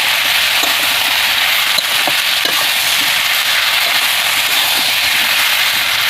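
Koi fish sautéing in a hot pan for a Bengali curry with bottle-gourd greens, a steady loud sizzle and frying hiss with occasional faint stirring clicks, no voices.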